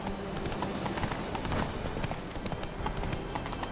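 Roach, the horse in The Witcher 3, gallops in rapid, continuous hoofbeats, close and steady for the whole stretch.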